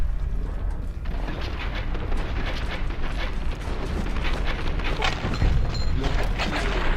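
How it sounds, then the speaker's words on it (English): Grenade blast rumbling amid continuous chaotic combat noise in Fallout New Vegas, a loud deep boom swelling near the end over dense, steady low-end roar with scattered sharp impacts. "someone threw a nade"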